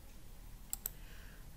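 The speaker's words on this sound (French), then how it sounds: "je tape 3 et je valide par entrée" Two quick, faint clicks sound on a computer keyboard, a keypress followed by a press of the Enter key, in an otherwise quiet room.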